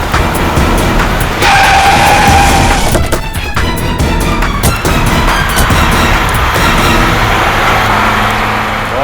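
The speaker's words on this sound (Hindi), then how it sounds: "ये नेहा तो गाड़ी भगाने लगी।" A car speeds off with loud tires squealing and skidding, the engine roaring close and then holding a strained drone as the vehicle races away.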